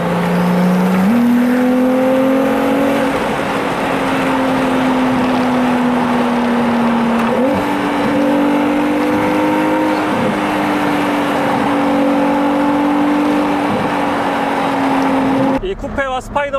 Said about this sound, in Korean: 요 뒤에 있는 엔진과 배기 사운드를 너무나도 가깝게 들을 수 있다라는 부분이에요.